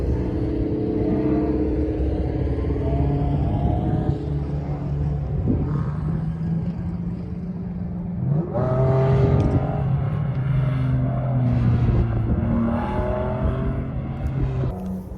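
Cars at a car meet, featuring a Corvette C8, driving and revving nearby, with a sustained engine drone that rises and swells midway as one accelerates past.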